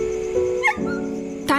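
A dog of a delicate breed gives short whimpering yips and a soft bark, close by and fairly quiet, over a steady background hum.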